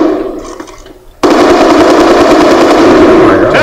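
Gunfire in the video game Call of Duty: Black Ops: a quieter fading tail at first, then a sudden loud, sustained automatic burst that rattles on continuously to the end.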